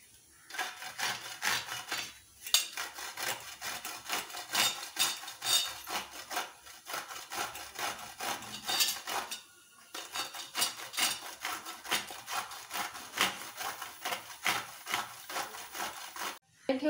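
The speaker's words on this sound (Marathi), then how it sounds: "हे असाच खिसून घ्यायचं आपल्याला." Ridge gourd being grated by hand on a kitchen grater, a close, steady run of rasping scrapes in quick rhythmic strokes with a couple of brief pauses.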